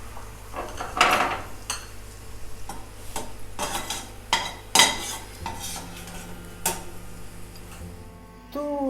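Fried garlic pieces scraped from a frying pan into a metal colander to drain, giving scattered clinks, scrapes and utensil knocks over a low sizzling background, fairly close, with no talking.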